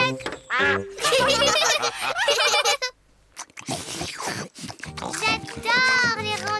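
A cartoon duck from a French-dubbed Peppa Pig episode quacks in short, bright bursts amid lively cartoon character voices talking and cheering close up.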